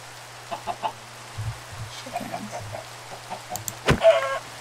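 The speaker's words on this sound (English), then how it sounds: "Chickens!" Chickens in the Minecraft video game give short, scattered clucks over a low steady hum, a few soft calls spread across several seconds, with a brief louder sound near the end.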